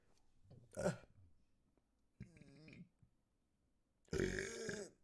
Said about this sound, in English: that shot a burp right in my fucking throat